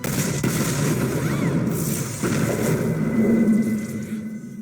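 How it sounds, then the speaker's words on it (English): A loud, dense rumbling explosion in the animated series Arcane rolls on for several seconds, with crackling debris and booming layers filling the whole stretch. "Oh, explosion!"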